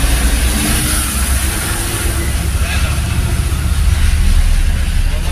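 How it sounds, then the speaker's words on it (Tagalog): Heavy trucks grinding through dense traffic in Valenzuela, a loud continuous engine rumble with idling and revving that holds steady throughout, with a voice talking underneath. "Walang kotse, puro truck lang."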